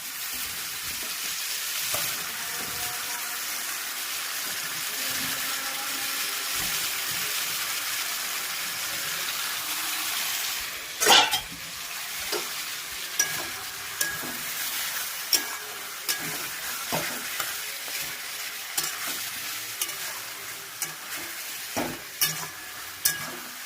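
Chopped potato and eggplant fry in masala in a village kitchen, a steady crackling sizzle that gives way to repeated sharp spatula scrapes and knocks against the pan, close and clear with no talk.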